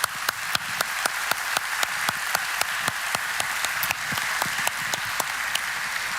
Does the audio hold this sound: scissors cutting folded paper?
no